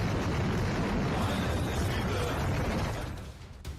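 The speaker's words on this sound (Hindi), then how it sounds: "इंटरकॉन्टिनेंटल बैलिस्टिक मिसाइल यानी कि आईसीबीएम का जबरदस्त धमाका ऐसा होता है" An intercontinental ballistic missile explosion produces a dense, sustained roaring rumble with broad, heavy low-end energy that holds steady and then starts to fade slightly toward the end, with no voices.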